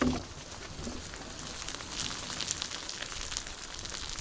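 Soft, steady crackling sizzle of pork fat cooking on a grill, dripping onto the coals, with faint popping and hiss throughout, fairly quiet and continuous.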